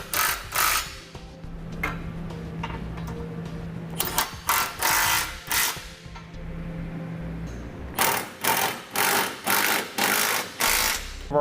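A socket tool works on trailer hitch bolts on a 2012 Cadillac SRX, giving bursts of rapid ratcheting clicks separated by pauses, with a steady faint whir underneath and a quick run of clicking toward the end.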